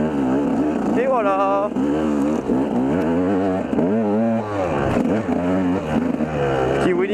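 KTM 200 EXC dirt bike engine revving hard for a wheelie on a trail, loud and close, with the pitch rising and falling throughout and wind noise over it.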